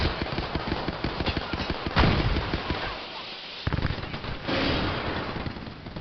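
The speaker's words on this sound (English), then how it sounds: "Target spotted. Taking fire." Rapid gunfire in a shooter video game, dense bursts of shots, rattling close and loud, with brief pauses and no talk over it.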